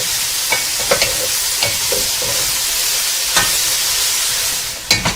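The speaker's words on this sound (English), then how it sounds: "you want to stir fry these bad boys on high heat with an occasional stir for about 5 to 7 minutes" Chinese cabbage stir-fries over high heat with a loud, dense, steady sizzle close up, broken by occasional clacks and scrapes of a stirring utensil.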